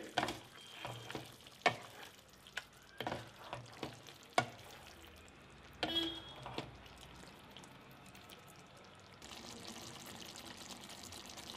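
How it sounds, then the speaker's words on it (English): Crushed garlic cloves stirred in a frying pan for a smoked pork dish with eggplant and potato, with a series of scraping, clattering spoon strokes over a soft sizzle, then a steadier frying hiss, close and without talk. "Finally add crushed garlic cloves give it a quick stir."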